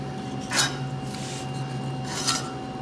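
A freshly adjusted reel mower blade slicing through a strip of paper, giving two short soft rasping snips about two seconds apart over a quiet steady hum.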